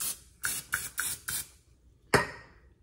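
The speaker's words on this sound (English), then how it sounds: "Let's open up both of them and spray down the waffle maker." Cooking spray hisses onto an open waffle maker in four quick bursts, then one longer spray after a short pause, close and crisp.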